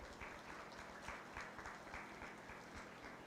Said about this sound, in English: If you would, give them a big round of applause.